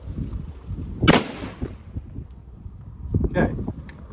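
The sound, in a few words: shotgun fired with the second trigger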